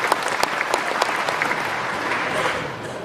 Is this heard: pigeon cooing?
no